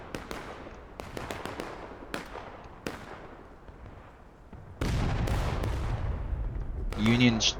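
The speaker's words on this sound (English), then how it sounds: "Union battery shooting high there." Union artillery battery firing in a Civil War battle video game: several sharp, booming shots spaced irregularly, some distant and echoing, followed by a louder rumbling stretch and a brief voice near the end.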